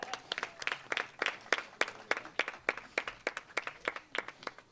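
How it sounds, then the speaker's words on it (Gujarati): Rhythmic clapping from an audience at a magic show, cheering on a couple called up on stage; sharp, fairly quiet claps in a steady unison beat, evenly spaced and continuing throughout. "જોરદાર તાળી પાડો કપલને માટે."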